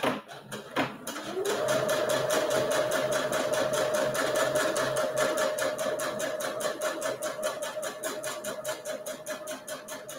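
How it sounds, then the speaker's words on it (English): A sewing machine runs steadily, stitching along the long edge of fabric for a cozy, a continuous close whirring hum after a brief start, with no talk. "flip it around and we're going to stitch the other long edge"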